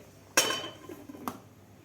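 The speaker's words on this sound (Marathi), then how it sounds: "तर त्यावर आपल्याला हे ताट ठेवायचं आहे" A sharp metallic clank as a metal plate is set down on a pot of boiling water, followed by a lighter second clink about a second later.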